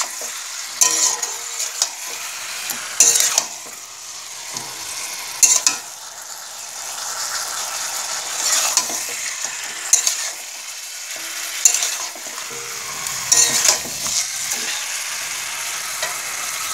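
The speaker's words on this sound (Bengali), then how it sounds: "এবার শুধু একটাই কাজ, ভালো করে চিকেনটাকে কষানো" Chicken stir-fried kosha-style with green chilli and garam masala in a pan, a continuous sizzle punctuated by regular sharp scrapes of the spatula every couple of seconds, close and clear.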